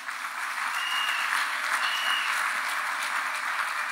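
Church congregation applauding in a steady, sustained burst of many hands clapping together, loud and fairly close, with a faint murmur of voices underneath.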